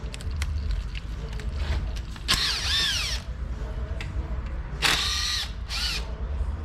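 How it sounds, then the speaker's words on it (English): An impact gun removing 8 millimeter oil pan bolts on a Nissan Sentra, heard as several short, loud whirring bursts with gaps of quieter clatter and shop noise between them. "You can use a ratchet handle on an 8 millimeter, or you can use an impact gun like what I have here."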